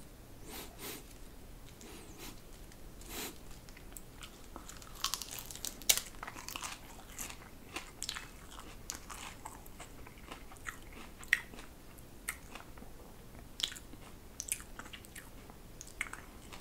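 Raw celery eaten close up with mayonnaise, crisp crunchy bites followed by quieter wet chewing, soft and intimate with no talking.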